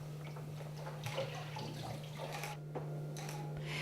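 Water is poured and splashed on stage during a theatre performance, a continuous trickling splash with small drips and a steady low hum beneath, no voices.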